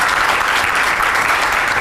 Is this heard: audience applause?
yes